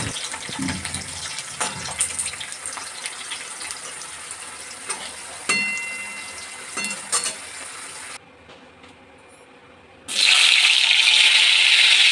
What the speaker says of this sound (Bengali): পটলগুলোকেও ভেজে নেবো